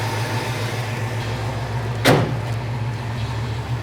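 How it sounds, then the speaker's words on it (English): Hood of a 1967 Pontiac Firebird slams shut with a single sharp thud while the engine idles steadily in the background. "Hood shut's awesome as well."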